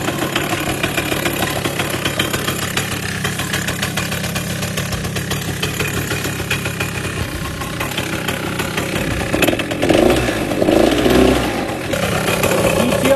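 Engine of a Rokon 2x2 all-wheel-drive mototractor motorcycle running at a steady, rough idle close by, then rising briefly in a couple of louder revs before settling back.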